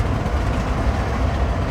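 A WDG 6G diesel locomotive hauls an intercity express with a loud, steady low rumble and drone, heard close from on board with no one talking, sounding rough and tractor-like.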